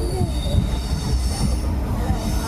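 The 16731 Tiruchendur Express arrives with a loud, sustained squeal of train wheels on the rails over a heavy low rumble of rolling railcars, heard close by without pause.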